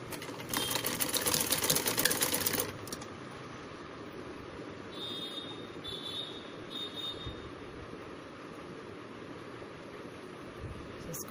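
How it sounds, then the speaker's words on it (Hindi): A sewing machine runs a straight stitch on a baby kurta, a fast rattling burst for about two seconds, then a quieter steady hum with light intermittent whirring. "इसको यहाँ से अब डालें और सीधा स्टिचिंग करें।"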